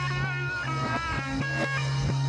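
Guitar solo played backwards: dense, sustained distorted guitar tones with swelling, reversed attacks over a steady low drone and full band texture, with no talking.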